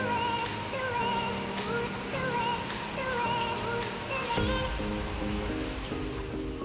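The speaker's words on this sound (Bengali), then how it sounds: "বাইরে দেখুন কত সুন্দর বৃষ্টি হচ্ছে।" Steady rain pours outdoors in a continuous soft hiss of drops on surfaces, with faint tonal sounds drifting underneath.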